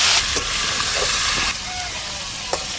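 Cut fish pieces frying in hot oil while being stirred in a pan, a loud continuous sizzle and hiss with occasional scraping strokes of the spatula.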